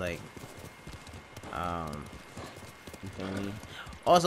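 Horse hooves gallop in a steady rapid clip-clop from the video game Ghost of Tsushima, running continuously beneath someone talking over the game.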